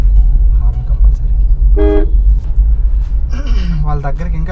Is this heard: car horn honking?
yes